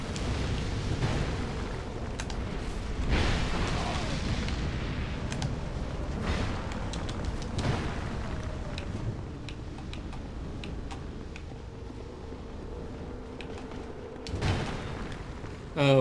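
Fire attacks exploding in Dark Souls, repeated deep booms and rumbling bursts over a dense game soundscape, with keyboard clicking mixed in.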